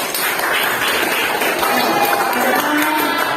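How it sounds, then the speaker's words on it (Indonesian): A classroom of students claps and cheers for a group after its presentation, a dense, steady patter of many hands that fills the whole stretch at close range, with some murmured voices mixed in. "Tepuk tangan untuk kelompok 1."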